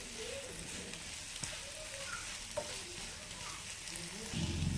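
Meal maker (soya chunks) stirred in a pan over a medium flame, giving a steady soft sizzle with faint scraping strokes, fairly quiet and even, with a louder scrape near the end.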